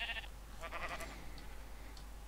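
Faint sheep bleats from the video game Minecraft sound in a short, quiet burst near the start, followed by a few soft, scattered blips over a low constant hum.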